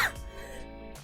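A single short cough comes from a streamer with a lingering months-long cough, close to the microphone during a casual chatting session, and fades into a brief voiced tail.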